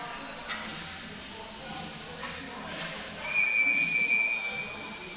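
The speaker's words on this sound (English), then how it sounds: "We're getting whistles because it's actually going on a play." Referee's whistle at an ice hockey playoff game, a single sustained shrill tone lasting over a second, heard through arena crowd murmur and broadcast ambience.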